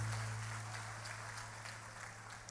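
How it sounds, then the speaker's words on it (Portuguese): A church congregation applauds, soft diffuse clapping spread across the room, faint and steady under a low constant hum, with no voices. "Os que podem, tomem o seu assento aplaudindo a Jesus"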